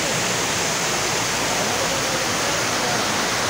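Loud, unbroken roar of the flooded Teesta river rushing as a stream through Teesta bazaar, a dense wall of churning water close by.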